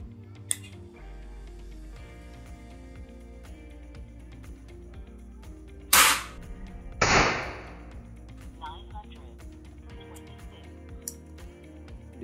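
GK-Mini II air rifle with a 3-in-1 stock fired once, giving a sharp, loud crack that is followed a second later by a second burst of hiss and rattle over a steady low background hum.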